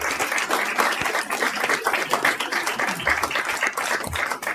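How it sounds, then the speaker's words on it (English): A city council meeting audience applauds after a set of videos are shown, with brisk, dense clapping from a roomful of people, close and steady for several seconds. "let's give those videos a round of applause"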